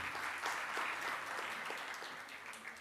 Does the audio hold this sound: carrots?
no